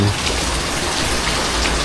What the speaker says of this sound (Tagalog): Ulan pa rin. Ulan ng ulan.